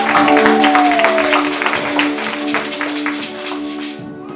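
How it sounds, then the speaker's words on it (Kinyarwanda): A church congregation at a year-end service applauds together, a dense wash of clapping with quick sharp claps, over a sustained musical tone, fading to quiet at the very end. "Please clap for the Lord."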